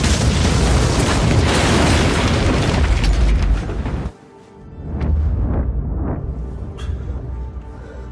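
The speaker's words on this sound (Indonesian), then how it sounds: "Seketika bom itu diledakkan yang membuat Kenshin mulai sempoyongan." A bomb blast in the Rurouni Kenshin film: a loud, sustained explosive roar that cuts off abruptly after about four seconds, followed by quieter rumbling and scattered debris impacts.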